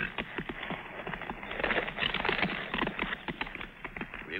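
Rapid, continuous clip-clop of horse hooves at a gallop, fairly close, over a dense rumbling background.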